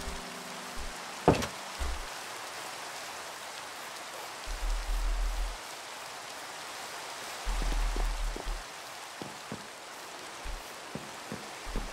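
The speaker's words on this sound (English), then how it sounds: "Oh, raining!" Gentle rain patters steadily in a video game, a soft, even hiss of drops with occasional low thumps and brief bursts of louder rumble from the game.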